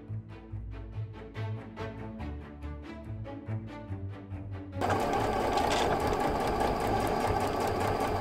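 A sewing machine stitching polyester ribbon into boning channels on a ball gown, first a run of rapid separate stitch pulses, then a loud continuous high-speed whir for the last few seconds, close up with no talking.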